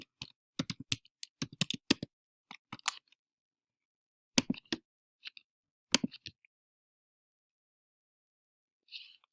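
Keys clatter on a computer keyboard as a password is typed for a login, in short irregular bursts of crisp clicks separated by pauses, fairly close and with no voices.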